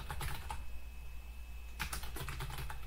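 Keys clatter on a computer keyboard in two short bursts separated by a pause, close and crisp above a low background hum.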